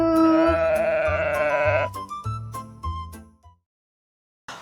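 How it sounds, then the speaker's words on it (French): Cartoon sheep in a French children's learning show give several loud, bleating calls in quick succession, each fading and shortening before a brief silence, then a short final bleat. "Qu'est-ce que tu vois dans la plaine? Des moutons!"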